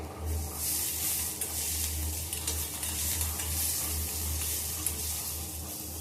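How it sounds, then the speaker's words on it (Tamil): Onions sauté and sizzle in a pan with a little salt, a steady close frying hiss with faint scattered stirring sounds throughout. "பொன்னிறமா நல்லா வெங்காயம் வதங்கி வரணும்."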